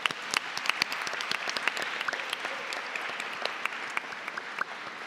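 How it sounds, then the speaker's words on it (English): Audience applause fills the hall at the GeMUN 2024 Model United Nations conference opening ceremony, a sustained, dense patter of many hands with sharper individual claps standing out, and no talking over it. "let's give ourselves another round of applause"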